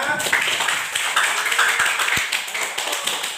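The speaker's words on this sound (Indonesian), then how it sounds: "Oke, tepuk tangan untuk kita semua." A short burst of group applause from a class, steady and moderately loud, many hands clapping together for a few seconds.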